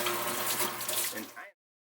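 A steady stream of cold tap water splashing into a sink for rinsing rice for about a second and a half, then cutting off abruptly into silence.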